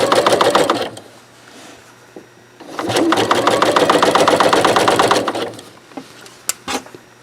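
A sewing machine topstitches knit fabric with a twin needle, running in two bursts of rapid, rhythmic stitching close up, with a pause between them and a few clicks and handling taps at the end.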